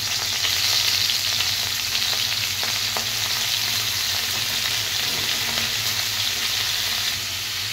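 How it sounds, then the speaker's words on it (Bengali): Prawns fry in hot oil in a wok (kadai), a dense, continuous sizzle with scattered crackles and light stirring, close and steady throughout, without speech. "চিংড়ি মাছগুলো ভেজে নেব।"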